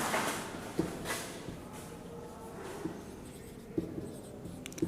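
Pen or chalk writing out a math solution in a class 10 trigonometry lesson, steady scratchy strokes with a few sharper taps, close and moderately quiet, with no talk.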